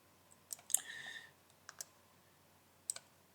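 Sharp, quiet mouse clicks in a few separate spaced pairs and singles at a computer, with a brief soft rustle between them and no voices.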